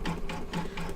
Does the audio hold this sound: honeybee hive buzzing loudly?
no